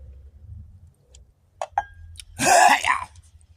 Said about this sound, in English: Hold on, I gotta clear my throat.